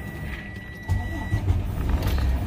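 A truck engine idles nearby as a low rumbling drone that swells after a short quieter start, with faint mechanical clicks and tones above it and no clear talk.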